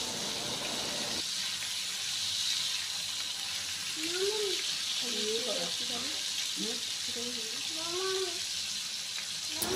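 Potatoes with salt fry in a pan under a steady, loud hiss and sizzle while a voice talks over it.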